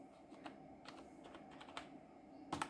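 Password keys tapped on a computer keyboard for a Raspberry Pi VNC login, a quiet, irregular run of soft clicks with a slightly louder cluster of strokes near the end.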